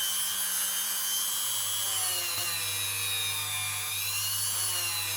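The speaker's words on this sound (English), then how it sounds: "My Dremel's making funny noises." A Dremel rotary tool with a fine steel-wool tip polishes fire scale off a coin ring made from a Danish five kroner coin, giving a loud, steady high-pitched whine with a low hum throughout and no talk.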